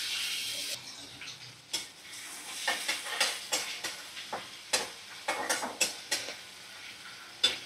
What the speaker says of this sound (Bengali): তো একটু আমি পেঁয়াজ ভেজে নেব।